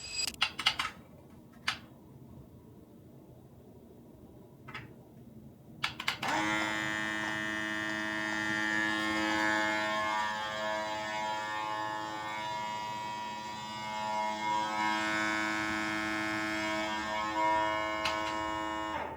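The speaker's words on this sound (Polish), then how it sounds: "jak bardzo głośne jest to narzędzie, jeśli zastosujemy tylko i wyłącznie samego fog machina" A few sharp clicks and knocks, then a LensGO fog machine kicks on with a loud, steady mechanical hum and whine that drones on without pause.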